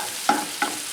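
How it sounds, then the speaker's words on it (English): Polenta with butter stirred in a pan, three evenly spaced scraping strokes of a spoon over a soft low sizzle, close up with no talk. "Stir this."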